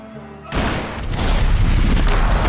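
Gunfire in the video game Max Payne 3: a sudden loud boom opens into a sustained roar of heavy shooting and blasts that stays dense and loud to the end.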